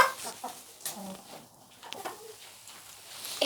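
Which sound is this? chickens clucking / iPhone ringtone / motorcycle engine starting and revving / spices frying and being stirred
chickens clucking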